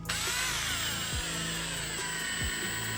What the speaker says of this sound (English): we're gonna put a couple screws in.